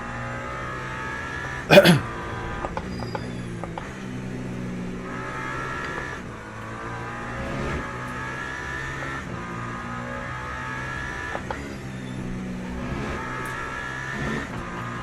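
Porsche GT3 race car in the Le Mans Ultimate racing sim, a steady droning engine with recurring gear-change blips and brief revs over fifteen seconds, one sharp thump early on, heard close and moderately loud.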